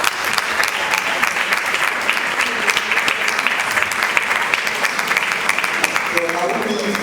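An audience at an African conference event applauds steadily for several seconds to welcome a speaker, a dense, even clapping that stays loud throughout, with voices faintly mixed in.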